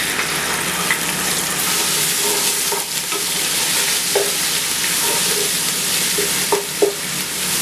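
Garlic and ginger paste sizzles in hot oil with lightly golden onions in a pan for chana pulao, a steady close frying hiss broken by occasional scrapes and clinks of stirring.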